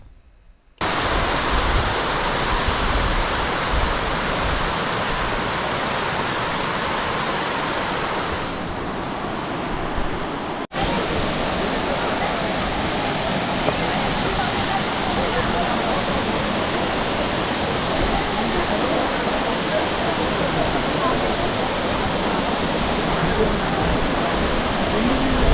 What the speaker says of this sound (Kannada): ಹರಿತಾ ಇರೋ ನೀರಿನ ಸೌಂಡು ಎಲ್ಲ ಎಷ್ಟು ಚೆನ್ನಾಗಿ ಅನಿಸ್ತಾ ಇರುತ್ತೆ